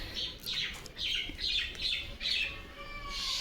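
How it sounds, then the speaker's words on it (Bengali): Many birds call near a neem tree in a garden, a run of repeated squawks and chirps in quick bursts, close and fairly loud over faint background hiss, with no talking. "কত পাখির ডাক শোনা যাচ্ছে।"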